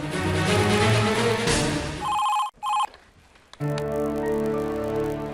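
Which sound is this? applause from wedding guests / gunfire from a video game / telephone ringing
telephone ringing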